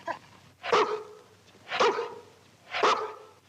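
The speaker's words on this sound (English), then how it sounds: "Be a good dog now." A dog barks three times at an even pace, each a single bark about a second apart, fairly close, with no talk over it.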